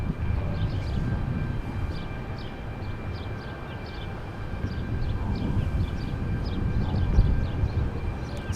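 A cargo airplane arriving at Milwaukee airport, heard as a steady, distant low engine rumble that holds throughout and swells slightly near the end, with no speech over it.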